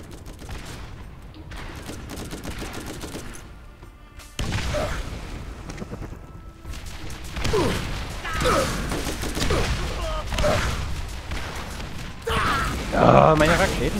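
Rapid gunfire and rocket blasts in the co-op shooter Borderlands, dense bursts and booms running throughout at close range, with players talking over the action.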